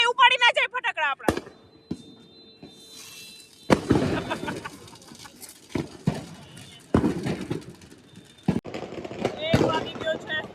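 Diwali firecrackers go off at night in Ahmedabad, a rapid crackling string followed by several loud sharp bangs and bursts, with people talking and shouting between the blasts.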